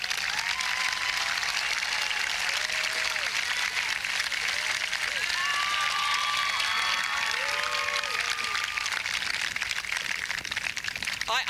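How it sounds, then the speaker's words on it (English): A crowd at a 1989 high school graduation ceremony applauds in a long, dense, steady wash of clapping, with scattered whoops and cheers rising above it. "I want to extend an ex post facto round of applause to Betsy McClellan for her achievement."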